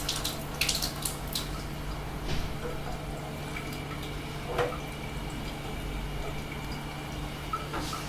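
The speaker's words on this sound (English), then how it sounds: "You can see the water goes from the bottom to the top." Water runs in a steady, gentle stream through a lab condenser, a constant low trickle and hiss with faint clinks of glassware, heard nearby without talking.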